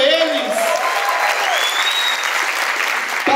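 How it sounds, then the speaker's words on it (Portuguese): Sustained applause from an event audience honoring the speakers, a dense steady patter of many hands throughout, with a voice briefly audible over it near the start. "Salva de palmas aos nossos oradores."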